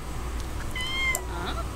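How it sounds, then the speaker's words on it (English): A cat in The Sims 4 video game, playing with a cat wand, gives a short, bright meow, a single clear tonal cry in the middle of a soft background. "I want to see Ramsey play with a little cat wand"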